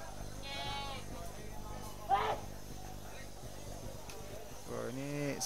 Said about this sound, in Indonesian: Kambing peranakan PE.